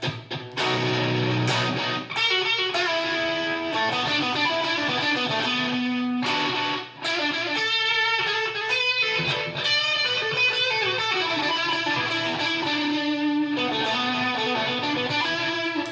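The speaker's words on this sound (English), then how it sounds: "So let's go ahead and hear Fly Fuzz." Distorted electric guitar through a Fender Mustang GTX100 Fly Fuzz effect, with a Vox-style amp, playing sustained chords and melodic lines with a thick fuzzy tone, loud and continuous with a brief break near the middle.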